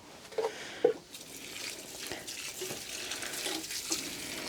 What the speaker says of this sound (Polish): teraz zleję porządnie tą ziemię wodą